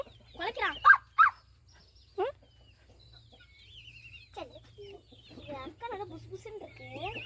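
Chickens cluck and squawk in a short burst of loud, close calls early on, followed by softer, scattered clucks against a low background hum.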